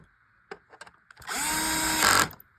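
A Milwaukee cordless power drill drives a screw in a steady, loud whir lasting about a second, preceded by a few small clicks and taps and cutting off sharply.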